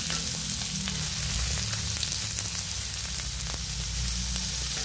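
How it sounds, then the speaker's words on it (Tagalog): Meat frying in a pan being flipped, a loud, dense, continuous sizzle and crackle close up, with no one talking. "Baliktarin ko na ang karne kasi nag-brown na siya."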